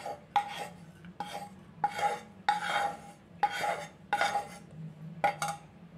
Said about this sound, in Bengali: এবার মশলাটাকে আমি একটা পাত্রের মধ্যে ঢেলে নিচ্ছি